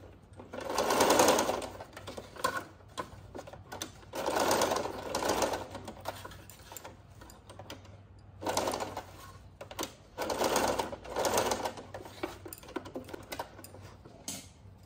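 A sewing machine stitches pajama fabric in several bursts of rapid mechanical whirring, each lasting a second or two and separated by short pauses and light handling clicks, close and fairly quiet.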